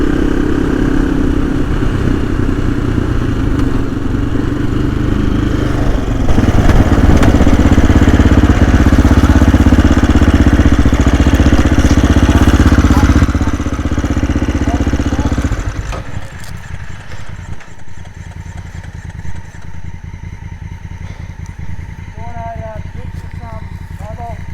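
An adventure motorcycle rides off dirt onto a twisty road in the ACT. Its engine drones loud and close with wind rush, swelling in the middle, then drops to a quieter, lower hum with light clatter.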